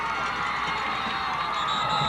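A football crowd at the 1991 Class I championship between Somersworth and Laconia cheers loudly at the opening kickoff, a steady excited roar with shouts and whistles near the end.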